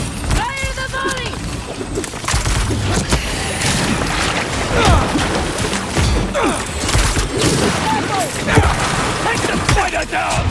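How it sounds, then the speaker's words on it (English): Heavy volley of gunfire and booming impacts in a Marvel's Spider-Man 2 street fight, continuous loud crashing and blasts throughout, with voices talking over the din. "Fire the volley!"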